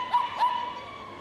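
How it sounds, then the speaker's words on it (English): A small dog yaps twice in quick succession at an agility team competition, sharp high yelps followed by a thin fading whine over arena hubbub. "That isn't a seagull, by the way, on my left-hand side. It is a dog."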